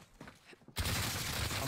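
Warzone gunfire bursts in abruptly after a quiet moment, turning into a loud, sustained rattle of rapid shots that fills the rest of the moment.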